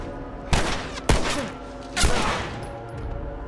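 Three loud, sharp gunshots ring out in The Last of Us, spaced about half a second to a second apart, each leaving a short echoing decay.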